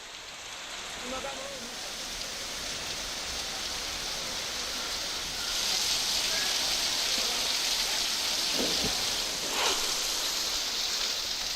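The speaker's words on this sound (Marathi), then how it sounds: "जळगाव जिल्ह्यामध्ये सुरू असलेल्या मुसळधार पावसाचा फटका पारोळा तालुक्यातील शेतकऱ्यांना बसलेला आहे." Heavy monsoon rain in Jalgaon district, Maharashtra, falls as a steady, dense hiss that swells louder midway, with a couple of brief low thumps. No one speaks.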